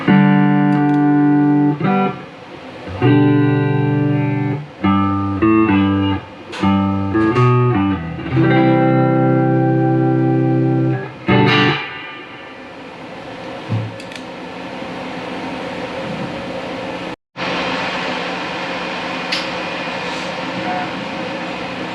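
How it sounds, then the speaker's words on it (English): An electric guitar runs through a Camo Flange flanger pedal set subtly, playing a series of ringing chords and notes with short pauses, loud and close, then trailing into a noisier sustained swirl. "So this is the Camo Flange."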